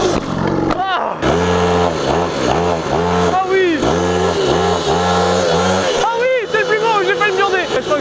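A cheap budget motorbike bought for 300 euros revs hard during a wheelie, its small engine rising and falling in repeated loud pulses, loud and close, with brief gaps and excited voices over it.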